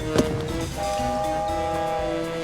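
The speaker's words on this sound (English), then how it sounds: "I think this controls the whistle." A steam train whistle in the Loco Motive game is pulled and sounds as a loud sustained multi-tone blast lasting about two seconds, after a brief mechanical clunk at the start, with no voices.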